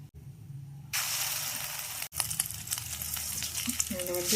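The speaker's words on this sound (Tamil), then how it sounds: "ஒரு ரெண்டு கரண்டி அளவுக்கு ஊற்றிருக்கேன் பாருங்கள் ஆம்லெட் வந்து வேக ஆரம்பிச்சிருக்கு" Prawn egg omelette batter hits hot oil in a kadai and bursts into a loud, steady sizzle that carries on for several seconds, with a few words spoken over it.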